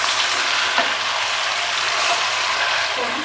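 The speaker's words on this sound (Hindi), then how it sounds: "ये देखिए चिकन को उस वक्त तक भूने जब तक ये बिल्कुल ऊपर ऑयल आ गया है" Chicken frying in oil in a kadahi, a loud, dense, continuous sizzle close by with faint scraping as it is stirred, no voices.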